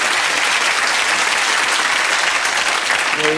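A studio audience at a 1980s comedy talk show applauds loudly and steadily, a dense wash of clapping that holds throughout with no break.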